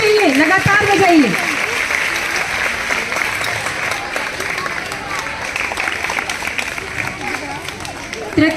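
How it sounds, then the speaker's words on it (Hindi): Sustained clapping from a school audience honouring girls, loud and close, with a voice calling out over the start and crowd chatter underneath the continuous applause. "तालियां बंद नहीं होनी चाहिए, लगातार बजाइए।"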